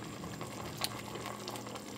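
A pot of water for spaghetti boils gently on the stove, a steady close bubbling hiss with small pops and no talk.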